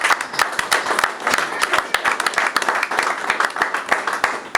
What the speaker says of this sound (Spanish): Denle el aplauso a Cristo Jesús.